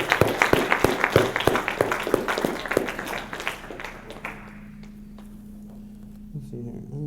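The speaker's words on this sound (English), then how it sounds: "Give these guys a round of applause." An audience gives a short burst of applause at a seminar talk, loud sharp claps for about four seconds that fade out into a low steady hum and quiet room noise.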